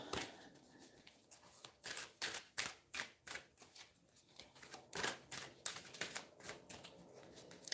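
Tarot cards are shuffled repeatedly in quick papery bursts, close and fairly quiet, with short pauses between riffles.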